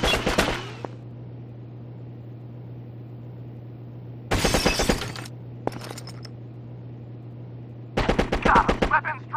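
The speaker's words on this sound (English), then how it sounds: "Heavy fire!" Heavy gunfire in Rainbow Six on the Nintendo 64, loud rapid automatic bursts in three separate volleys over a constant low electronic hum, with a brief glassy crack between them.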